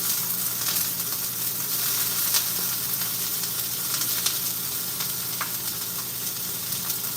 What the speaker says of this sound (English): I'll put my peppers and onions in there first